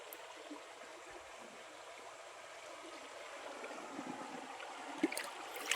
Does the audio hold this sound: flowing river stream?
yes